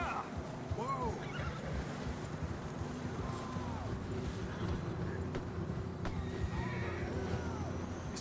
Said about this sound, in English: I don't think we can go much further on the horses.